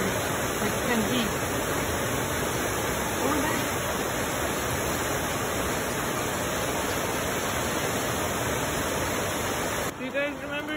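A swollen river in the Amazon forest, risen about five meters, rushes with a loud, steady, broadband roar of churning water that holds unbroken and close. It dips briefly near the very end.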